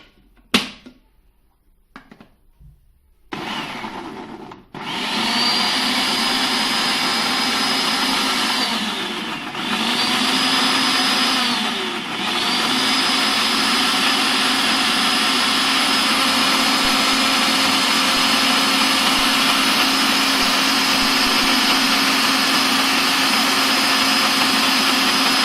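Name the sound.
blender mixing milk for garlic shawarma sauce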